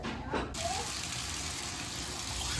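Hot water running from a hotel tap in Monument Valley, a steady close hiss of flowing water after a brief softer start, continuing evenly without pause.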